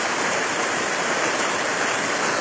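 Loud, constant rushing of water pumped out from a water treatment plant outflow along a hiking route, dense and unbroken with no voices.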